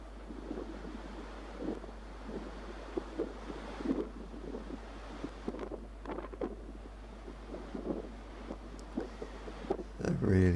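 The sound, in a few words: strong wind blowing at St Catherine's Oratory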